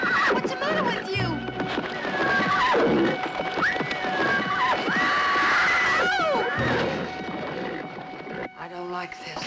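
A horse neighs and whinnies in a 1970 horror film, rising and falling cries with some hoof clatter and a tense music score mixed in, fairly loud and close throughout.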